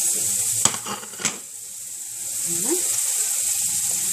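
Cheese pastry baskets fry in hot oil with a steady close sizzle, broken by a couple of sharp clinks of utensil on pan near the start and light stirring scrapes.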